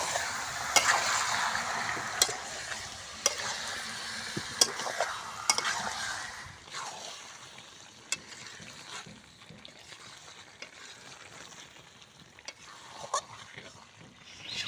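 Chicken pieces and fried potatoes are stir-fried together in a pan, a steady close sizzle with a regular series of spatula knocks and scrapes, easing into a softer hiss with occasional taps later on.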